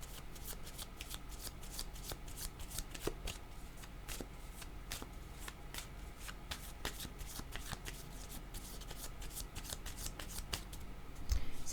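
Tarot cards are shuffled over and over in rapid, crisp riffling bursts and soft slaps, close up and steady for the whole stretch with no talk.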